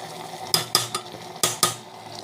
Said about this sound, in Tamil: ஸோ ஆட் பண்ணிவிட்டு ஜஸ்ட் வந்து இப்படி கலக்கிட்டுக்கோங்க.